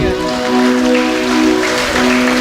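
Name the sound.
audience applause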